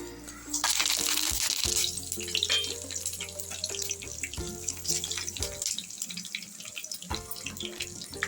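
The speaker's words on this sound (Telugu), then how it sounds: "ఒక 2 నిమిషాలు ఇది ఫ్రై చేసుకోవాలి." Cumin, mustard seeds, dried red chillies and curry leaves hit about two spoons of hot oil in a pan for a tamarind chutney tempering, giving a loud, steady, close sizzling hiss dotted with sharp crackles and pops, with no voices.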